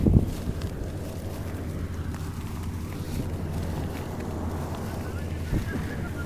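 A combine harvester running in a field gives a steady, loud low-pitched engine drone mixed with wind rumble, opening with a brief knock, while voices murmur faintly underneath.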